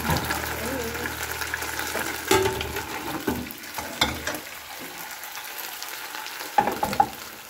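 Chicken sizzling and frying in a small pan, a steady crackle broken by a few sharp clanks and stirring knocks, close by.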